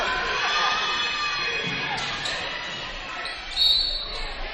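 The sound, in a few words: home crowd cheering at a high school basketball game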